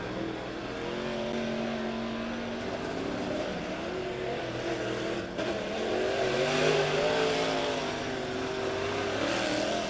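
Late model race cars roaring around a dirt oval during a heat race on the final lap, engines droning loudly and steadily with rising revs as cars pass close by, no talk.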